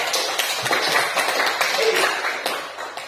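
Students clapping in a classroom during a maths lesson on vectors, a moderate scattered patter of hands with a few sharper individual claps standing out.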